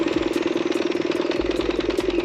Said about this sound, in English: that's just your classic ABS braking for scooters